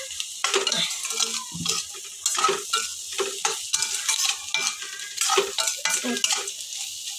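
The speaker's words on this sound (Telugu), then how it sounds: "దగ్గర ఉండి కలుపుకుంటూ చేసుకోవాలి" Cauliflower and egg fry being stirred in a pan with coriander powder and garam masala, a steady sizzle broken by repeated scraping strokes of the spoon, close and fairly loud with no talking.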